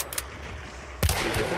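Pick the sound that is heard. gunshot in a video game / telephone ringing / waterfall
gunshot in a video game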